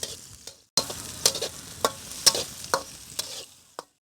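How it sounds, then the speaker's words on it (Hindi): Onions sautéing in a little hot ghee for methi paratha, a soft sizzle broken by a series of sharp spatula scrapes and taps against the pan, spaced irregularly before stopping. "हम इसमें डालेंगे प्याज और फिर करेंगे इसको थोड़ा सा सौते"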